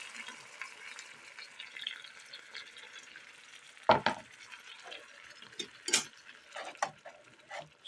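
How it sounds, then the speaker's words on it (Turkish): Spiced tomato-paste mixture is stirred into onions and meat frying in a pan for yalancı menemen, with a soft continuous sizzle and a few sharp clinks and scrapes of the spoon against the pan. "soğanla iyice karışacak şekilde şöyle çeviriyoruz"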